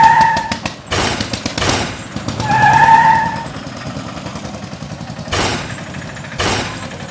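A heavy truck brakes and jumps over a road speed bump: a rushing whoosh of a passing vehicle, a skidding squeal, then further loud swishes of traffic passing close by.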